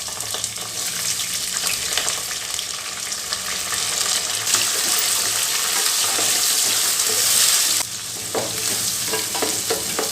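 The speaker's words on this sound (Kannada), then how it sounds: "ಈಗ ಈರುಳ್ಳಿ ಸೇರಿಸ್ತಾ ಇದ್ದೀನಿ." Onions tossed into a hot pan of oil with fried peanuts and curry leaves sizzle loudly and steadily, a continuous close crackling hiss that briefly surges before easing, with no voices.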